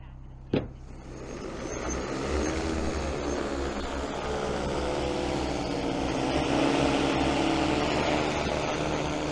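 A DJI Agras T30 agricultural spraying drone takes off after a sharp click, its rotors swelling into a loud, steady, broadband whir that stays close and sustained with no talk.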